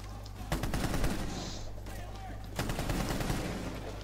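Rapid bursts of gunfire in Rainbow Six Siege on Xbox One, clustered volleys near the start and again after a lull, loud and close over a steady low background hum.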